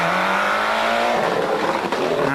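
Ford Escort Cosworth rally car on the Manx Rally threading a tight chicane, engine note rising in pitch then dropping as it lifts off and re-accelerates, loud and close, with a brief tyre scrabble.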